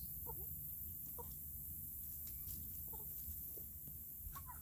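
Turkey on a Texas farm, soft clucking calls scattered over steady background noise, faint and somewhat distant.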